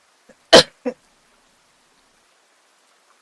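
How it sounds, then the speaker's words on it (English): One sharp, close cough followed by a smaller second one in an otherwise quiet room during a relaxing reading session, then silence. "I think I have my coughing under control."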